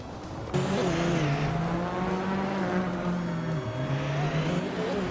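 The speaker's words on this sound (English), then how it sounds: "Blin Shiakot 21 is driving a 1999 Audi R8C in the LMP 900 class." A 1999 Audi R8C LMP 900 prototype race car in a racing video game holds a steady, loud engine note with shifting pitch and a brief tire-squeal edge, continuous throughout with no talk.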